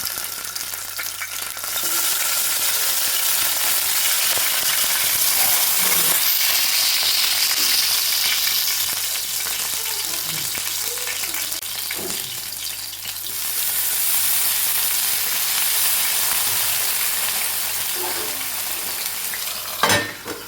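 Chopped brinjal frying in hot oil, a steady loud sizzle across the whole stretch, swelling as the pieces hit the pan and with occasional scrapes of stirring.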